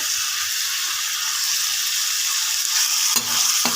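Chilli powder, salt and spices sautéed and stirred in a pan for a mushroom gravy: a loud, steady sizzle with soft scraping strokes underneath and a brief thicker clatter near the end.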